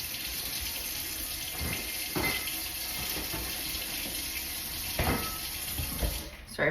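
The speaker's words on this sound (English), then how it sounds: "I was running cold water down my drain, so I didn't scald anything." Cold water gushes steadily from a kitchen tap into the sink and down the drain, a continuous close hiss with a few faint clatters of a pot and strainer.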